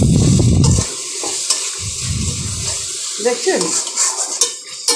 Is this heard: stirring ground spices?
yes